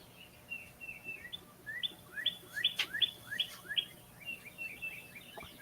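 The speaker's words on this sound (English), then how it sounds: "The serenade of the birds." Small birds chirp and trill in quick bright repeated phrases, clustering in the middle and thinning out toward the end, moderately close over a quiet indoor hum.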